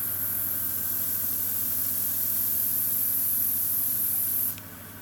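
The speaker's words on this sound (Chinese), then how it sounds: "按住轻轻往后拉，就会看到有那个喷雾出来。" An oxygen facial machine sprays a steady, loud hiss of mist, continuous for about four and a half seconds before cutting off, leaving a quieter background hum.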